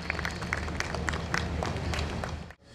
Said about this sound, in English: Can I have a round of applause for everyone?